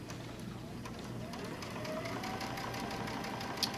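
A sewing machine stitches piping onto the edge of a reading book pillow, a steady low mechanical hum with faint rhythmic ticking throughout and a small click near the end.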